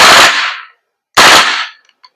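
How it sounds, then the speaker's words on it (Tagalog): Knights Armament SR16 E3 Mod2 CQB airsoft gas blowback rifle firing full auto: two loud, dense bursts of rapid shots, each about half a second to a second long, separated by a brief silence, followed by a couple of faint mechanical clicks. "tapos switching to full auto."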